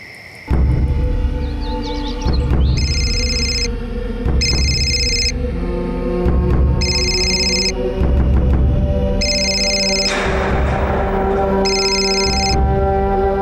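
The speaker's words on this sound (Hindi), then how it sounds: "फोन क्यों नहीं उठा रही हो तुम?" A phone rings in repeated bursts, five rings spaced evenly over a busy, loud background of music and ambient noise.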